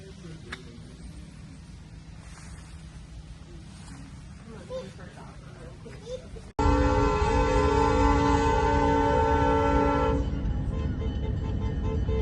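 A dinner train passes with a loud, sustained horn blast that cuts in suddenly midway and holds for several seconds over rumbling rail noise, after a quieter stretch of distant ambience.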